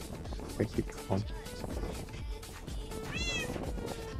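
A cat gives a clear meow over constant background noise and nearby talking in Portuguese, the cry rising briefly near the end of the stretch.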